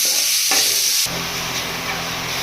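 Onions sizzle in a hot pan with a little salt for a tomato-free chutney, a close steady frying hiss with stirring scrapes that grows louder and denser after the first second.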